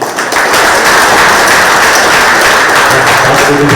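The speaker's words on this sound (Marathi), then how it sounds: "त्यांच्याकडे जोरदार टाळ्या झाल्या पाहिजे" Audience at a Mumbai bidi and tobacco traders' association event breaks into loud, sustained applause that quickly swells and keeps up evenly for several seconds.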